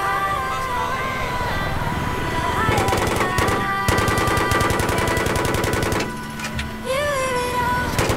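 Gunfire in the video game Battlefield 3 from a Viper attack helicopter, with sustained rapid automatic bursts loud over engine drone and faint game chatter, then a short pause and more firing.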